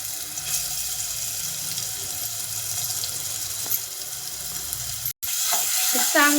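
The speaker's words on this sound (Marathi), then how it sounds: "चांगलं परतून घ्यायचं आहे मंद आचेवर, जेणेकरून ते खाली लागलं नाही पाहिजे." A paste of onion, tomato, ginger and garlic sautéing in a pan over low heat, a continuous close sizzle with a brief stir near the end, with a voice talking over it.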